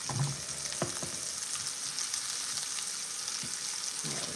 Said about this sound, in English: So it's getting a nice hot sear off on it.